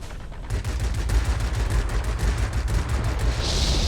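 Rapid automatic gunfire from a Yak-19 fighter in the World of Warplanes video game rattles continuously and loudly over engine roar, with no talking.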